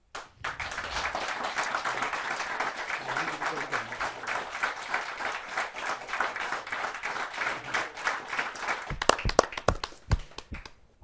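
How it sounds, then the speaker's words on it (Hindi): Sustained audience applause fills a kavi sammelan hall, steady and moderately loud for about nine seconds before breaking into a few scattered, sharper claps as it dies away. "जोरदार ताली के साथ हम उनका स्वागत करें।"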